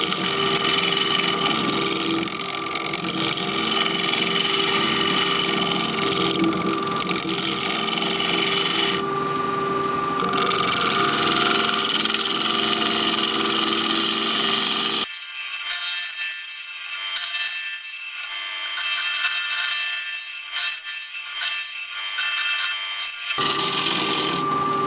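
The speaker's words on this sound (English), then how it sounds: "I'm going to shear scrape a little bit along this top edge." Wood lathe spinning a turned bowl while a tool shear-scrapes along its top edge, a continuous close rasping hiss over the lathe's steady hum, with a brief change in tone partway through.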